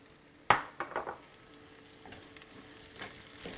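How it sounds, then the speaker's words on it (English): Curry leaves and half a medium red onion hitting hot oil in a pan, sharp crackling bursts and spatters at first, then a softer sizzle with stirring scrapes, no speech. "In goes the curry leaves and the red onion."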